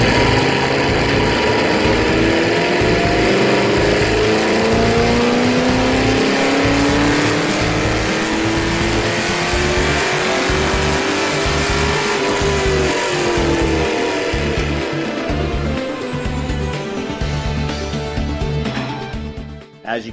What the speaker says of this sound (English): Let's take a drive on the dyno and see how this cold air induction system makes our SS perform.